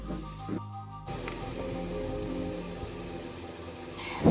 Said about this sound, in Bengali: এখন বাসন টাসন মেজে নি